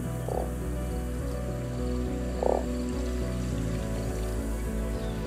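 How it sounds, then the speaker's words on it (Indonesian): Frogs croaking in the nature-restoration game Terra Nil, two clear croaks rising over a steady musical and ambient background, with a trickle of water underneath. "ada kodok"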